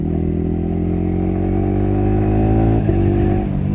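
A Yamaha R15 motorcycle fitted with an aftermarket electronic throttle runs loud and close, a steady engine drone with strong harmonics and a quick throttle blip near the end.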